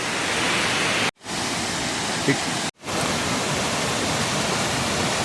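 The Mettuguda waterfall at Seethampeta runs heavy with water, a dense roar like loud hiss that fills the whole stretch, cut by two brief dropouts.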